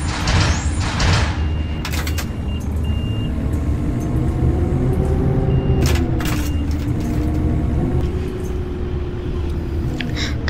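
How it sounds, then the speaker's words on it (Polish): Bus doors sliding shut in a Roblox bus game: a steady engine hum runs throughout, with short beeps and a brief door chime over the idling bus. "Zamykamy wszystkie drzwi."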